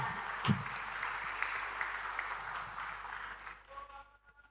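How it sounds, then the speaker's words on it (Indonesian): A seminar audience at UIN Syarif Hidayatullah applauds. The clapping is faint and sustained, then thins out and fades toward the end. "Tepuk tangan."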